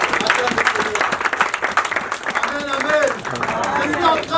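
A church congregation applauding and cheering, dense clapping mixed with shouts and voices, steady and loud throughout.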